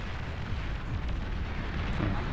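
Vanguard walking cannon shells from Beyond All Reason boom and rumble in a continuous heavy roar of impacts and blasts, loud throughout.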